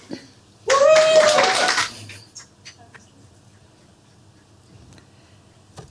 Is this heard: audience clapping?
yes